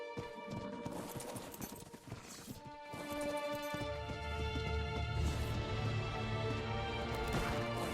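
Horse hooves clip-clop in the ARK video game, a steady rhythmic trot under layered game music and ambience, moderately loud and continuous throughout.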